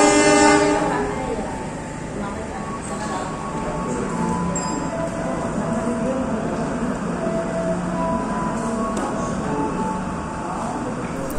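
The Serayu passenger train pulls out of Ciamis station, opening with a loud horn blast before a steady, loud rumble of wheels and carriages rolls on without pause.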